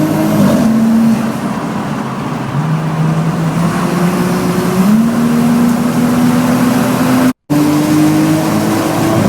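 A Toyota with a 1JZ non-VVTi 2.5 liter six-cylinder twin turbo engine drones loudly nearby, its pitch holding and then stepping upward through the revs, with a brief dropout near the end.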